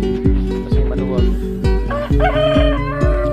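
Nearby chickens cluck while a rooster crows loudly, over a steady repeating thump in the background.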